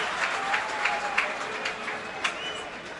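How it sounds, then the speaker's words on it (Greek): A football stadium crowd at a Panionios vs AEL match gives scattered, moderate applause for a player being substituted, heard as a distant wash of clapping with a few louder peaks and no clear voices. "Χειροκροτείται, ο Τσικιτισβίλη περνάει στη θέση του."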